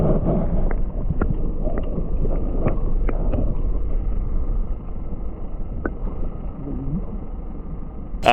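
A fishing boat motors and turns around, its engine a steady low rumble under wind buffeting, with scattered knocks and a voice speaking briefly.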